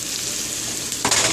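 Tomato sauce hits a hot pan while Cuban red beans are cooked, a loud steady sizzle and fry that swells into a brighter burst of spitting near the end.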